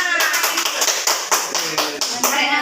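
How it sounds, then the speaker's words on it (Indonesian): A small group claps hands together during a stress-management session at an elderly care home, close and loud with a quick, somewhat ragged rhythm of distinct claps. "Oke, tepuk tangan untuk kita semua."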